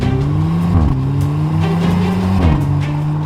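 A 2016 Audi TTS with a six-speed dual-clutch S-tronic gearbox accelerates hard, its engine note climbing loudly and dropping sharply at two quick upshifts before rising again, close and continuous with no talk.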